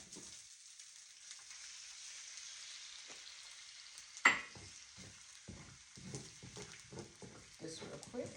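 Rice with a little oil sizzles steadily in a hot pan while frying for chicken fried rice, with a sharp scrape partway through and repeated stirring scrapes and rustles after it.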